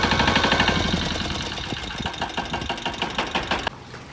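A tractor engine runs close by with a steady rapid chugging knock, loud and even, cutting off abruptly near the end.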